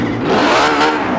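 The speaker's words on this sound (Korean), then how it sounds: "이것이 바로 페라리 배기음" A Ferrari 599XX EVO race car in Forza Horizon 4 fires up and revs hard, a loud, close, raspy exhaust roar that stays dense and sustained for about a second.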